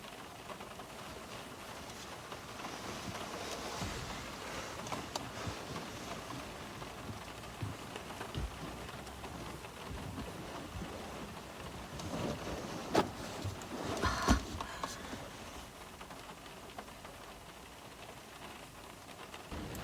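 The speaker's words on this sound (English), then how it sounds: "It's raining." Steady rain patters on a car at night, soft and continuous, with a few louder drips and gusts partway through.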